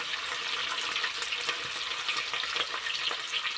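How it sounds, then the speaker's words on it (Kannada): Onions frying in a pan for vegetable pulao, giving a steady, close hiss and crackle of sizzling oil with light stirring throughout, no voices. "ಮತ್ತು ಈರುಳ್ಳಿ ಸ್ವಲ್ಪ ಫ್ರೈ ಮಾಡೋಣ"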